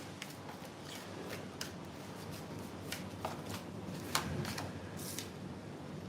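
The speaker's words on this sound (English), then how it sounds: "I'm going to keep shuffling." Tarot cards shuffled by hand, a close, continuous riffling and flicking with soft repeated snaps, fairly quiet and heard alone.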